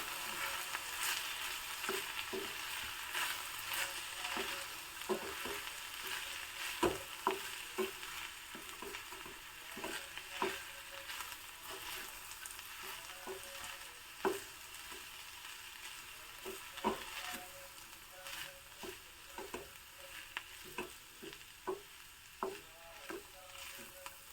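A mixture roasts in oil in a pan while being stirred, a soft continuous sizzle broken by frequent scraping clicks of the spoon in an irregular rhythm, close and alone.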